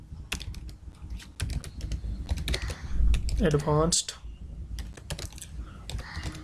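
Rapid keystrokes on a computer keyboard while a web project for a Bootstrap 4, PHP, MySQLi and Ajax product filter is set up, the clicking steady and close throughout with a brief stretch of speech in the middle.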